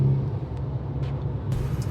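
A 2010 Ford Focus SES with a manual gearbox cruises on a highway, heard from inside as a steady low engine and road rumble with faint hiss and small cabin noises, no talking.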